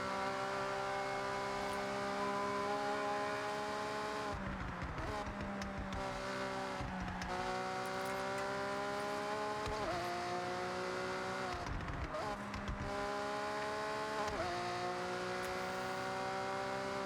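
A drift car on stock exhaust in Forza Horizon 6 drones steadily at high revs, the engine note dipping and climbing again through repeated shifts or throttle lifts around corners, with bursts of tire squeal, continuous and fairly close.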